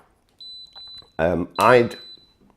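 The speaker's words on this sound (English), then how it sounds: "Everything that you do beeps." Small high-pitched electronic beeps from a Vuze XR 360 camera chirp faintly a few times, with a person speaking loudly over them.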